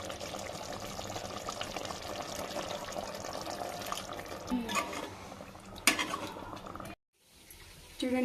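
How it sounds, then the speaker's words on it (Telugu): Water poured into a pot of roasted chicken curry to bring it to a boil, with a steady splashing pour and a few stirring scrapes, then a sudden silence and a faint resumption. "కొంచెం వాటర్ వేసుకొని బాయిల్ చేసుకుందాం."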